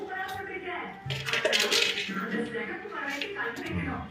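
Light metallic clinks of a spoon against a pot or cup while adding sugar to coffee, several taps under a busy kitchen background with voices nearby.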